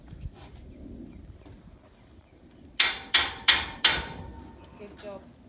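Four sharp, ringing hammer blows land in quick succession on metal while a scaffold is built for farmhouse wall repairs, loud and close, after a quieter outdoor stretch with faint birds and a soft extra tap afterward.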